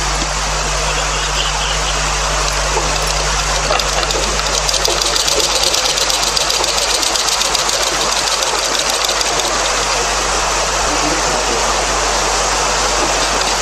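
A sewing machine runs steadily while stitching a piping strip during tailoring work, giving a continuous, even mechanical whir with a fast needle rhythm and no pauses or voices.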